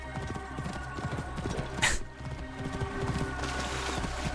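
Horse hooves clip-clop steadily in Assassin's Creed Origins, a continuous rhythmic gallop with game ambience and a brief whinny-like burst midway; no talk.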